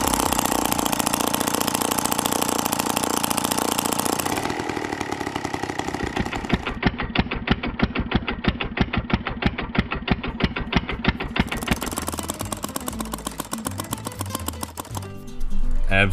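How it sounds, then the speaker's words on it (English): A homemade two-stroke engine built from hardware store parts idles outdoors, a loud, steady rapid putter that changes pitch partway through and cuts off near the end. "So it runs and it idles pretty happily."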